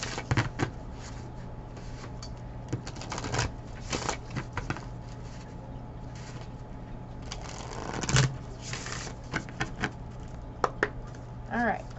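Tarot cards are handled and drawn from a deck on a table in a series of soft, irregular clicks and slides, with a few sharper taps, beneath a steady low hum and intermittent talking.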